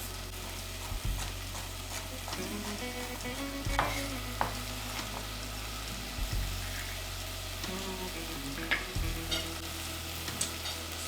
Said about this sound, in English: while the bacon is cooking